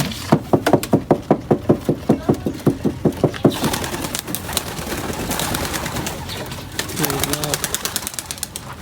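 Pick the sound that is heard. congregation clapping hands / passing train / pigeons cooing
pigeons cooing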